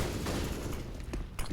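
Counter-Strike: Global Offensive gunfire during a pro match on the Nuke map, rapid submachine-gun fire rattling continuously in the background with a few sharper, nearer shots standing out.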